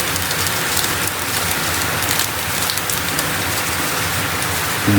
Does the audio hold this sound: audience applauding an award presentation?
no